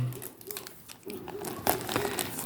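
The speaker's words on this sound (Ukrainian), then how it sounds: "можна їх скріпити якось докупи скотчем" Adhesive tape is wrapped around a bundle of coins packed for mailing, giving soft, close crinkling and brief sticky crackles in quiet surroundings.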